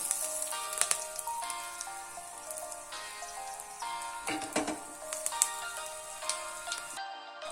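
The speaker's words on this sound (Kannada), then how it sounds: "ಈಗೆಲ್ಲ ಸಾಸಿವೆ ಎಲ್ಲ ಸಿಡಿತು ಈಗ ಇದಕ್ಕೆ ಬೇವಿನ ಎಲೆ ಹಾಕ್ಕೊಳ್ತಿದ್ದೀನಿ" Curry leaves drop into a hot mustard-seed tempering for coconut red chutney, giving a steady crackling sizzle with sharp pops close by, over a faint tonal background and no talk.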